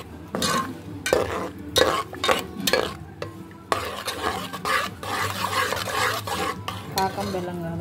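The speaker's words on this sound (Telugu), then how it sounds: "బెల్లం గడ్డలు కరిగే వరకు కలుపుతూ ఉండాలి" Jaggery lumps are stirred in a pan until they melt, with repeated loud scraping and clanking strokes of a utensil against metal in an uneven rhythm over a faint sizzle, close and without talk.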